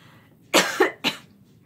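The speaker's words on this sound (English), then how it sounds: "I talk myself into a coughing fit" Two sharp coughs close together, then a third after a brief pause, loud and near against a quiet background.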